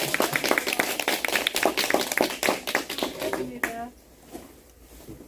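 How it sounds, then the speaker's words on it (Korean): A meeting audience at a study session on designing a peace-village building gives dense, lively applause for about three and a half seconds, which then dies away into quiet room tone with a voice beginning to speak. "박수로 맞아주시면 감사합니다."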